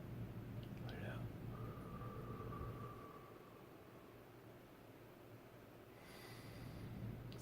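A person lets out a long, deep, breathy exhale close to the microphone, a soft rushing hiss that tapers off before another faint breath begins.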